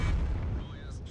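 Tank cannon shell impact in the World of Tanks video game, with a DS PZInz in play: a loud, deep, rumbling boom fading over about a second with no talk.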